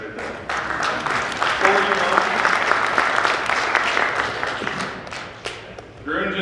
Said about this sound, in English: How about a round of applause for those guys right there?